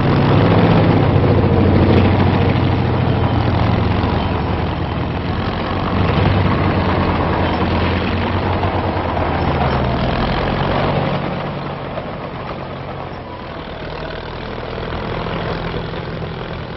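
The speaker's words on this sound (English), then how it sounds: "Big tractor dozers handle the assignment." Big tractor dozers clear debris from war-damaged streets, heavy diesel engines rumbling and idling loudly and continuously, with low droning that eases slightly partway through, no voices.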